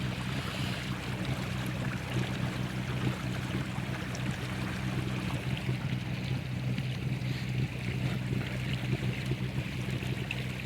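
Haswing Osapian 55 lb electric outboard running at full speed on a Tohatsu 260 inflatable boat, a steady low motor hum under continuous rushing water splash, with no one talking.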